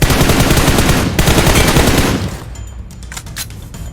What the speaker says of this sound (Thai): เหมือนมันยิงอยู่นะ อยู่ตรงไหน